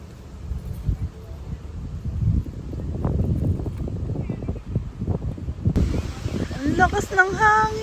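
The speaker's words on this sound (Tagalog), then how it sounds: "Ang lakas ng hangin." Strong wind buffets a camping site at a mountain resort in Tanay, a steady low roar and rustle under nearby talk, with a brief tonal sound near the end.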